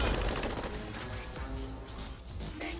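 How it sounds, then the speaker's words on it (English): Bursts of rapid gunfire crackle through a Tiny Metal video game battle, dense repeated shots over a low rumbling background, moderately loud throughout the short stretch. "Gunfire."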